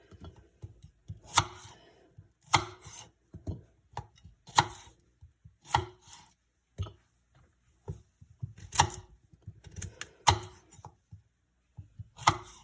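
A knife chops through root vegetables on a board in a steady run of close, sharp taps with short pauses between bursts, no voices.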